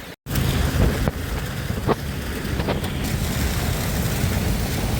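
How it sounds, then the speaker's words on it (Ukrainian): Heavy rain pours with water running everywhere, a steady loud wash of broadband noise with wind buffeting the microphone and a few faint clicks, continuous with no voices. "дощ дійсно сильний. Ось наскільки все тече."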